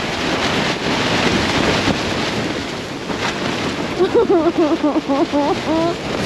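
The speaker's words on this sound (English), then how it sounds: "right now the wind is picking up" Strong wind roars steadily against a mountain tent in Antarctica, loud and continuous with gusting surges; a voice talks over it in the final seconds.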